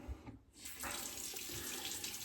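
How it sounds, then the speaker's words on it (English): Water pours in a steady, close, continuous stream, starting after a brief gap and running to the end, loud and alone with no talking. "so we'll pour out our bloomin' water, get it going"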